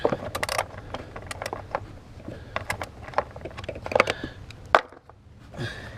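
A 10mm bolt on the evap purge valve of a GM 3.0L/3.6L engine is worked loose with a steady run of sharp, close metallic ticks and clicks, denser near the start.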